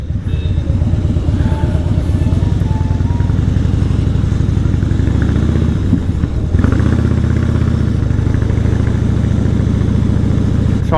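Harley-Davidson Fatboy motorcycle engine running steadily at close range, a loud, continuous low throbbing rumble with mechanical clatter and a brief dip and swell in pitch partway through as the throttle is worked.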